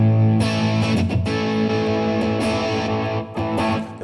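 Electric guitar played through the distortion setting of a 1995 multi-effects unit, a thick saturated tone with sustained chords and a few picked accents, loud and close with no voices.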